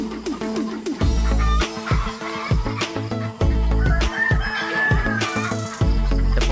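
Layer hens cluck and squawk on a poultry farm beside other birds, a busy, dense chorus of overlapping calls with sharp knocks and thumps mixed in, close and fairly loud.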